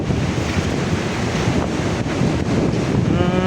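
Strong wind buffets the microphone as waves crash and surf churns at sea off a fishing boat in the windy season, a loud continuous roar with no talking.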